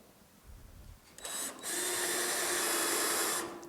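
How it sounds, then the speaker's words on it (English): A power drill spins up briefly, pauses, then bites into a spot weld on a GTO's quarter panel with a sustained high-pitched whine for a couple of seconds before stopping. "I'm going to drill a divot just like that"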